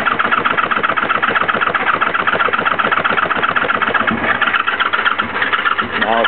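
A Honda Magna V65 motorcycle engine fires and runs after a very hard start, a loud, continuous rapid pulsing with a brief dip near the end, while a voice speaks over it.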